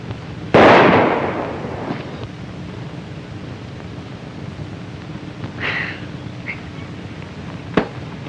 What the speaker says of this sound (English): Say, that's pretty good shooting.